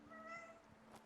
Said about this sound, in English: That's my cat. She's saying hi.